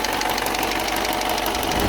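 An engine in a father's pickup truck runs with a dense, continuous mechanical clatter and rapid metallic knocking from a faulty part, loud and close with no talk.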